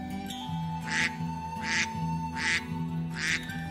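Cartoon ducks quack in four evenly spaced, fairly loud bursts over a steady musical background, with no voices between them.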